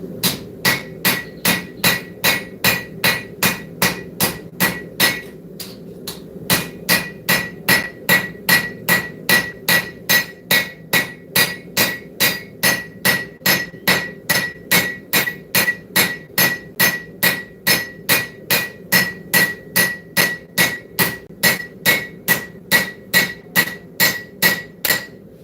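Steady, evenly spaced hammer blows ring out on hot metal at an anvil, forging with cross peen and straight peen, dozens of sharp loud strikes in a continuous rhythm with one brief pause near the start.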